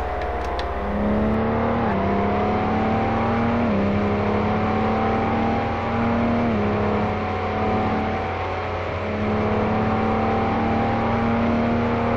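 Simulated car in Car Mechanic Simulator 2018 accelerating hard, its engine note climbing steadily and shifting through gears, loud and continuous with no talking.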